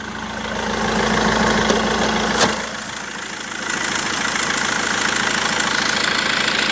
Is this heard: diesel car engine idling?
yes